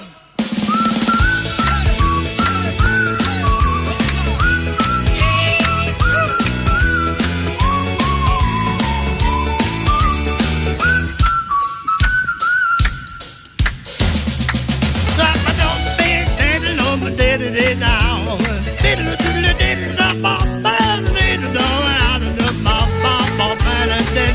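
Human whistling carries a melody over a full, steady musical backing, with a short thinner break midway, during a morning show.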